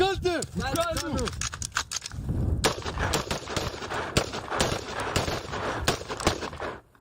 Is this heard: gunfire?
yes